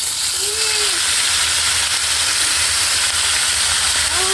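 Loud, constant sizzling and crackling of tilapia frying in hot oil, dense and close, with faint squeaks over it and no voices.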